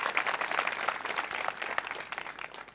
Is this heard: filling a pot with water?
no